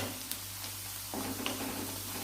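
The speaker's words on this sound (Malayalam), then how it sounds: "ഇതൊന്ന് വഴറ്റട്ടെ." Onions sautéing in a pan with chili, coriander and turmeric powder, giving a soft steady sizzle and hiss with a few light stirring clicks, close and quiet, no voices.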